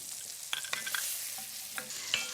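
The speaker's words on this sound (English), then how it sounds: "I'm just turning them in the spiced oil" Leeks are being turned in hot spiced oil with cumin and ground ginger, giving a soft continuous sizzle broken by a few scraping stirs of the spoon, close and moderately quiet with no voices.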